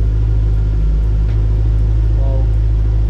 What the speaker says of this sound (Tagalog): Ano yung tunog ng V8?